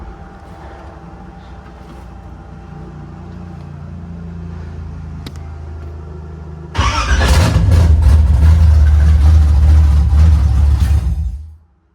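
LS V8 swapped into a Nissan 240SX drift build, suffering a crank sensor fault, idles roughly then roars louder and abruptly cuts out and stalls, close and loud.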